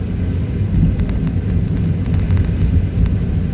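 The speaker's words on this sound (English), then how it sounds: "It's raining right now." Steady rain falls outside in wet weather, a dense, continuous hiss with a low rumbling wash underneath and faint scattered ticks of drops, loud and unbroken throughout with no voices.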